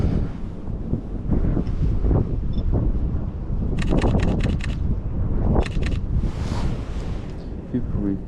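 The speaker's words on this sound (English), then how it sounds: "It's just starting to get really windy now." Gusty wind buffets the microphone with a low rumbling roar, while a person talks throughout over the blustery noise.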